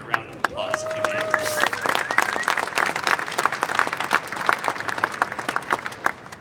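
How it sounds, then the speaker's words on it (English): An audience at a college Republicans convention general session breaks into a dense round of applause, many hands clapping loudly and continuously for several seconds, with crowd noise and a voice mixed in. "I'd like to give her a round of applause if you may."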